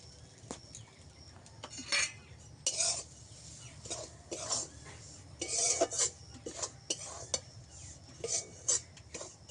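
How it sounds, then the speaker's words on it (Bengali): Spatula stirring grated coconut in a pan while making palm fritters, irregular scraping bursts and light clinks at an uneven pace, close but fairly soft, with no speech. "একটু উল্টে পাল্টে নেড়ে নেব নারকেল কুড়াটা দিয়ে।"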